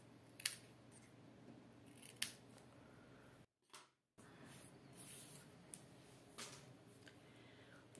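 Scissors snip through stamped card paper, cutting the crafted card piece in two, with a few sharp, close cuts spread across a quiet background and a brief silent gap partway through.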